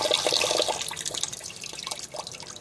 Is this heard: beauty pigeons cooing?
no